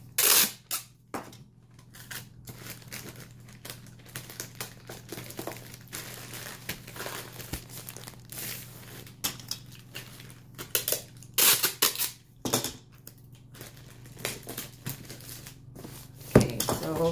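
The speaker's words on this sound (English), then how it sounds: "get another tape to secure it as much as you can" Packing tape pulled and pressed down to seal a shipping package for an online shop order, a run of crinkling, crackling strips and rustles with sharper rips, close and fairly quiet, no talking.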